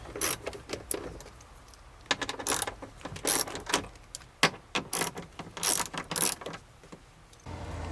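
Close, crisp clicking of a socket wrench ratcheting in quick irregular bursts with short pauses, used on a 10mm fastener while removing the airbag from a 2003 BMW 525i.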